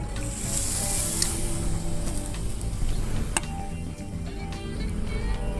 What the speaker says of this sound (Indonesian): ini akan kita goreng sampai dia kecoklatan